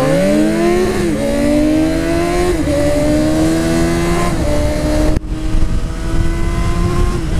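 A Suzuki Bandit 250 motorcycle accelerates hard from 0 to 60, its engine screaming up through rising revs with brief dips at each gear change, loud and close throughout.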